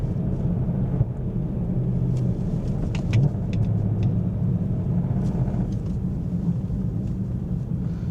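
BMW E90 M3 with an exhaust leak, rumbling steadily at low revs in gear around 2,000 rpm, with a continuous rattle and vibration from the leak and a few faint clicks near the mic, close and unbroken with no talk.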